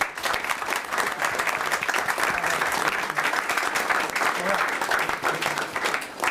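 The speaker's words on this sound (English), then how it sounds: "Can we give Mark a round of applause?" Applause for a coach at a school committee meeting, a steady room-wide round of clapping lasting several seconds, fairly distant, with faint voices underneath.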